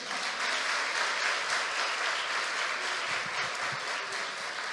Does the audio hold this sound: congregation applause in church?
yes